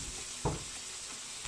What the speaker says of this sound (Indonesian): tunggu kita punya bilis garing dengan bawang merah dan bawang putih